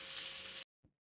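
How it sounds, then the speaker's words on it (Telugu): Cooked rice tipped into a pan of fried egg for egg fried rice sets off a loud, steady, full sizzle that cuts off abruptly, followed by one brief soft knock. "రైస్ని ఎగ్ ఫ్రైలో యాడ్ చేద్దాం."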